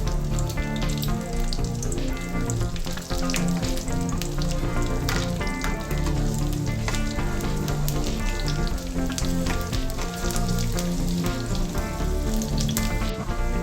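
Cumin, mustard seeds, garlic and dried red chilies sizzle and crackle steadily in hot oil, a dense, continuous frying hiss with scattered pops heard close up.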